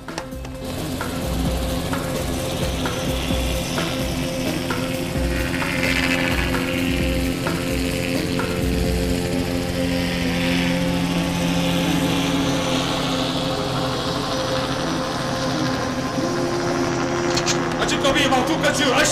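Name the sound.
police helicopter landing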